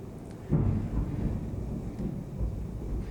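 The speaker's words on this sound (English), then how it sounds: "A little bit of thunder outside." Distant thunder rolls outside a woodworking shop: a low, faint rumble that swells suddenly and then lingers steadily for a few seconds.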